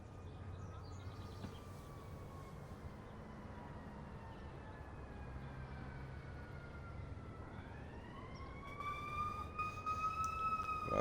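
An emergency vehicle siren wails through a scene in the video game Life is Strange, its rising and falling tone steady beneath ambient background noise and growing louder and nearer toward the end; no one talks.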